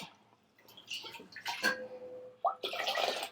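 Water poured into a pot of simple lentil soup (pappu charu) in bursts of splashing and gurgling, louder toward the end, with brief pauses between pours.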